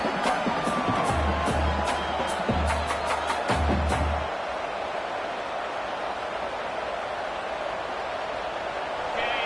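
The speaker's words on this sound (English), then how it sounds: "wow, listen to this crowd noise" A big stadium crowd at an American football game roars steadily, loud and dense, with sharp bursts and thumps early on before settling into a sustained wall of noise.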